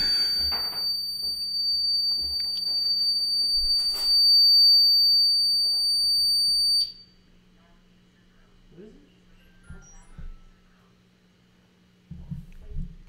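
An indoor alarm beeps with a steady, piercing high tone for about seven seconds, then cuts off, leaving near silence broken by faint rustling. Someone talks briefly as it starts.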